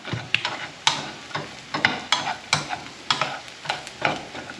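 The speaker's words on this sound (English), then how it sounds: "now we mix the bacon back in." Cooked peppery bacon is stirred and mixed back into a hot frying pan, giving a steady sizzle broken by repeated scraping strokes in a regular rhythm, close and clear.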